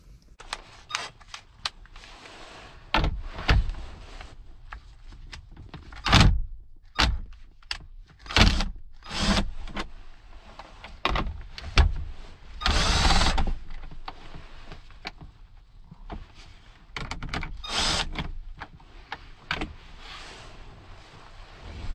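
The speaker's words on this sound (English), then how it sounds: "remove these two screws. In order to do that, we're going to use a 7mm socket" Console screws on a 2006-2010 Ford Explorer being removed with a 7mm socket: a series of irregular clicks, taps and short ratcheting rasps close by, separated by quiet pauses.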